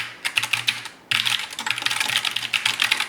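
Rapid typing on a GK61 budget mechanical keyboard, a steady clatter of bright clicky keystrokes up close, with a brief pause near the one-second mark before the keys resume at a quick, uneven rhythm.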